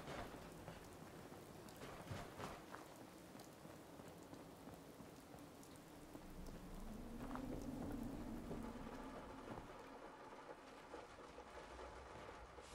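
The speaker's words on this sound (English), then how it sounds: "that's amazing when you go in here and you can hear the rain on the roof" Steady rain drums on a roof in Fallout 4, a dense, even patter heard alone at low level, swelling slightly in the middle with a faint rumble before settling back.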